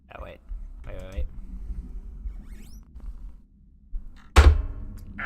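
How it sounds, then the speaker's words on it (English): A mobile phone falls and lands with one sharp, loud thud near the end, after a few short vocal sounds and a quiet pause. "That was my phone falling."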